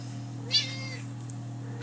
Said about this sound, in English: I was just letting my cat in.